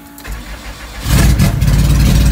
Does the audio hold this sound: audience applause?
no